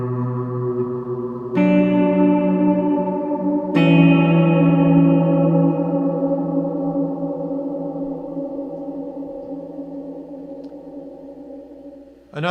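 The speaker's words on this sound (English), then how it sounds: "Now you'll hear a little movement in the reverb trail." Guitar played through a Source Audio reverb pedal with modulation on the reverb trail: two struck chords ring out, each leaving a long, slowly fading, gently wavering wash of reverb.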